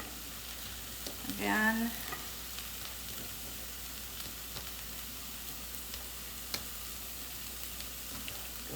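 Zucchini for a veggie frittata sizzles softly in a pan, a faint, even hiss running throughout, with a brief spoken word early on.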